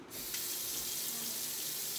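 About a cup of water pours into a pressure cooker pot in a steady, close rushing stream, a continuous splashing hiss from start to finish.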